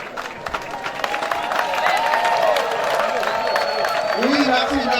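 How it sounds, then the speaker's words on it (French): Clapping and cheering from an audience at a celebration event grows louder and holds steady, with a voice speaking over it. "Alberto et Radio, venez pour que mes parents puissent nous applaudir."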